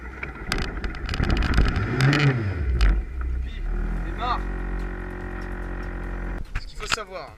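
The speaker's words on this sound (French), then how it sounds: "sur la voiture, savoir si elle va démarrer" A Renault 4L engine cranks over and catches, then settles into a steady low idle with a rising rev near the start and mechanical clatter, heard close up with someone talking over it.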